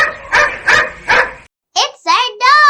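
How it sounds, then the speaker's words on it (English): A dog gives three loud, evenly spaced barks up close. After a short pause, a voice speaks. "It's a dog."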